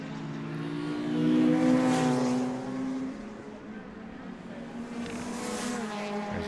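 A VW Golf race car and other circuit racers run down the main straight during an ICCR club race, their engine notes rising to a loud, near pass and then fading, before another car approaches.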